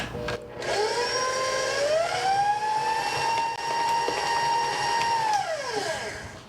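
A stand mixer with a paddle attachment mixes zucchini bread batter. The motor whines up to speed, holds a steady loud hum for several seconds, then winds down.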